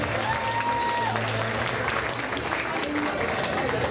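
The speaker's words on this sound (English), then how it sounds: "A big round of applause for Mallory and Dad." Applause for a father and daughter at a dance-floor celebration, a continuous crowd wash of clapping with cheering and voices mixed in, steady and full throughout over background music tones.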